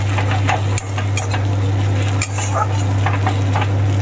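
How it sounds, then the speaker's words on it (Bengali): Onions frying in a pan for a koi fish curry with tomatoes, a steady sizzle under a strong low hum, with occasional sharp clinks of a spoon stirring against the pan. "পেঁয়াজটা এই যে ভাজা হচ্ছে, তারপর টমেটোটা দেবো।"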